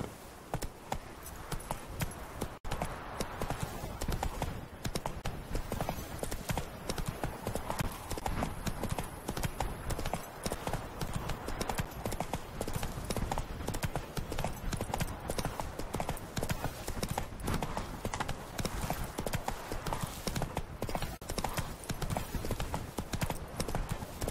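Roach, the horse in The Witcher 3, clip-clops steadily at a walk, hooves striking in an even rhythm against a continuous wash of ambient game sound.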